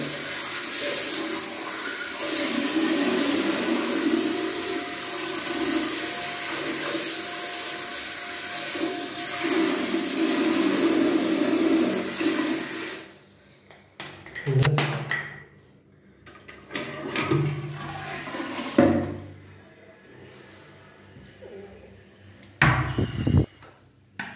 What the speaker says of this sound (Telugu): జస్ట్ ఇప్పుడు చేయాల్సిందల్లా ఫ్లష్. మనం ఫ్లష్ చేస్తే